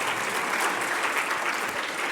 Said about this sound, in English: Please give Mr. Bain a round of applause while they get settled